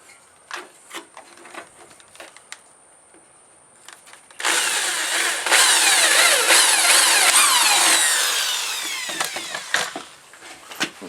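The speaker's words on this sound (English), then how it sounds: "now we have our hole drilled" A power drill bores a hole in wood while a drafting table is being built. A few quiet clicks and handling taps come first, then a loud, sustained whirring bite into the wood for several seconds that ends with scattered knocks.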